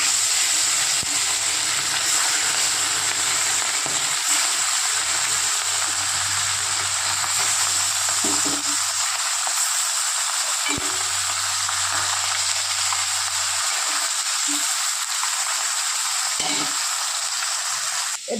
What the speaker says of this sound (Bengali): তেল গরম হয়ে গেছে, এক এক করে মাছগুলো দিয়ে দেবো।